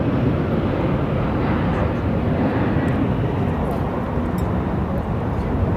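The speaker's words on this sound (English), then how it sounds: "The plane is lining up." Air Force Two, a government jet on final approach to Phoenix Sky Harbor airport, passes with a continuous loud roar of engines that holds steady throughout.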